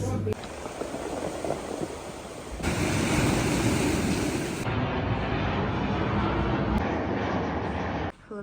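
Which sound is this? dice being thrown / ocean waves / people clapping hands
ocean waves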